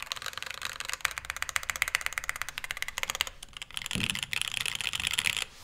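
A clacky Mode80 mechanical keyboard with a polycarbonate plate is typed on quickly and steadily, its close, crisp key clacks forming a dense, continuous patter with no voices.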